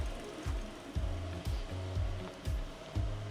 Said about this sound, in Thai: เดี๋ยวผมผมเข้ามาเปิดแอร์นะ